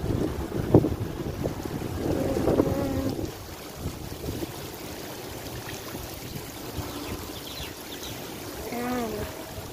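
Gusty wind buffets the microphone at an outdoor harbour-side spot in Hong Kong, a steady rushing roar with low rumbles and a few faint background tones.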